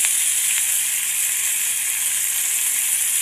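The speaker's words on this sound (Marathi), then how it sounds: "खेकडे सोडून झालेत. चांगले परतायचे हे तेलामध्ये" Crabs sizzle steadily in hot oil while being fried until crisp, a continuous bright hiss with no talking and no pauses.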